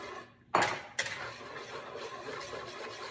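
A spoon clinks and scrapes against a bowl while coconut chia pudding is stirred together, with a sharp first knock, a second tap, then softer continuous scraping over a quiet background hum.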